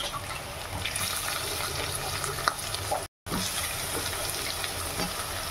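Boiled potatoes are broken up and stirred in a hot frying pan, giving a steady close sizzle with intermittent scraping and clacks, briefly interrupted by a short gap of silence.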